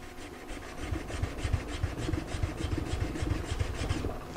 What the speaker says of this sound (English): I'm going to concentrate my sharpening on the front of the chisel